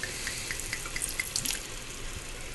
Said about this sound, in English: we're also going to add a little splash of white wine.